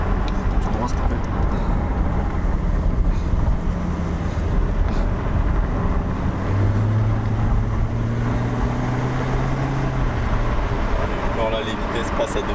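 A limited-edition Jetblack Corvette Stingray C7 drives along with a steady low engine drone and wind rush, and a smooth rising tone holds through the middle as the gears shift near 2000 rpm. Voices talk over it.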